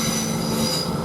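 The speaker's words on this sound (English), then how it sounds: "Now we get the northern train now starting here." A Northern train starts away from Doncaster railway station. A steady, loud rumble with sustained tonal hum and whine is heard up close, with no talking.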